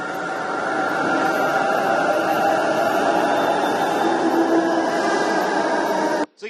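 Inside a Bengaluru Namma Metro train on the Yellow Line, a steady, loud rumble of wheels and motors fills the cabin with a faint tonal whine, then cuts off abruptly at the end.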